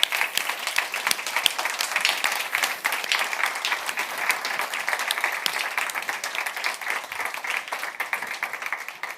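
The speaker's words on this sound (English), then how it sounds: "give a massive round of applause to the panel who are going to come onto stage now" Sustained applause from a large conference audience welcoming a panel onto stage, steady and dense throughout with no pauses.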